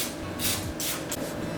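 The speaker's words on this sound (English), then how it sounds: "We're going to spray it generously with whatever cooking spray you have" Cooking spray hissing from a can into loaf pans, in three short bursts close to the microphone: the first longer, then a second burst and a very brief third.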